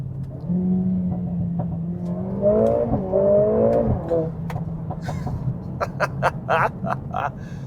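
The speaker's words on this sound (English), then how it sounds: "put it in race mode and have a listen to the exhaust" A Mercedes-AMG A45 S engine hums steadily in race mode, then revs up and down with a rising and falling exhaust note, followed by a few sharp, crackling bursts.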